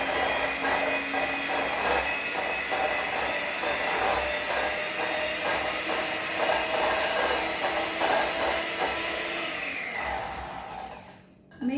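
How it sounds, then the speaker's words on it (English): Salted butter being whisked in a bowl produces continuous brisk scraping and rubbing strokes at close range, steady throughout before tapering off at the end, with no one talking. "start whisking."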